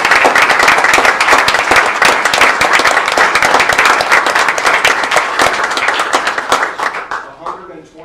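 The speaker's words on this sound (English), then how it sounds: "Let's have a round of applause for these." Loud sustained applause from a crowd at a township board meeting honoring Eagle Scouts, dense clapping that gradually thins and fades out near the end.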